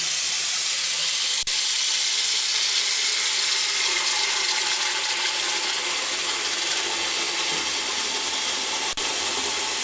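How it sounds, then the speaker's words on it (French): Ice-cold water running steadily into a bathroom sink, a continuous hissing gush close by with a couple of brief clicks. "Maintenant, on remplit le lavabo d'eau glacée."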